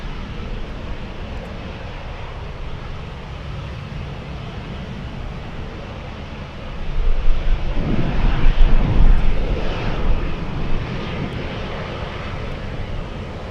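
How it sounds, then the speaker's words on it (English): F-22 fighter jets taking off at Anchorage airport, a broad roaring engine rush that swells from a steady distant hum to a louder peak mid-way, then eases back, with no voices. "Hopefully we have more F-22s taking off."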